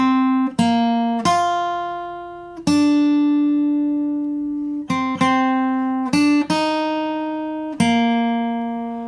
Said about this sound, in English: you could play it on an acoustic guitar like I'm playing today